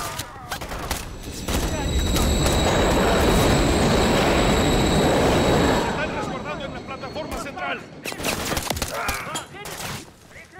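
A train rumbles past in the video game Modern Warfare 3, a loud sustained roar with rattling wagons that swells and holds for several seconds, with scattered gunfire and brief voices around it.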